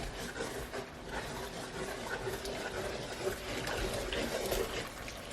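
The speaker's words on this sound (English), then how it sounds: "I'm gonna add a little more liquid in here" Liquid is poured into a pan of black pepper steak gravy with cornstarch, a steady soft splashing and rushing wash with some scraping, fairly quiet and close.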